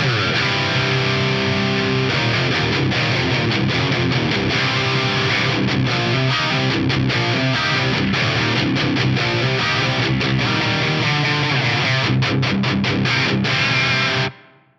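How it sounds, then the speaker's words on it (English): Heavily distorted electric guitar through a Fractal FM9 plays continuously with wah sweeps and echoing delay repeats, loud and dense, stopping abruptly at the end. "Wah, distortion, delay, they are like Konami code for the guitar"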